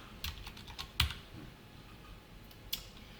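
Someone types code on a computer keyboard with a few scattered, quiet key clicks, one sharper tap standing out, in a calm room.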